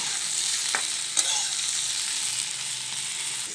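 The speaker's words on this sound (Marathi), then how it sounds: "आता हे जे मुठिया कट करून घेतले हे टाकून घ्यायचं आणि याच्यामध्ये आपल्याला फ्राय करून घ्यायचं" Fenugreek muthiya dumplings with sesame shallow-frying in a little oil, a steady close hiss of sizzling with a couple of brief clinks from stirring, no voices.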